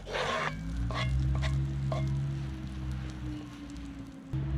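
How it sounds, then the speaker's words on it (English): Steady crackling sizzle of beef frying in a hot cast iron Dutch oven, with a few scraping stirs near the start; no talking. "You want it pretty warm so the meat really sizzling in there."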